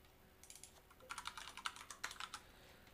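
Fast, light keystrokes on a computer keyboard in short bursts, quiet and close, with no talking over them.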